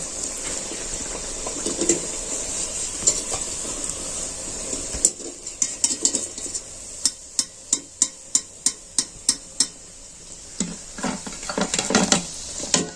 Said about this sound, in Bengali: এই যে আমি এইভাবে তেল ঝিটকি ঝিটকি দিয়ে ভেজে নিয়েছি